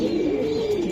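Racing pigeons from the BRPFC club coo in one steady, low, rolling call, close and clear, with no voices.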